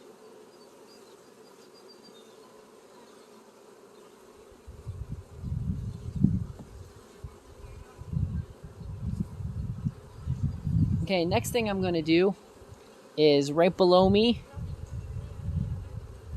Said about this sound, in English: we have this box that was full of bees.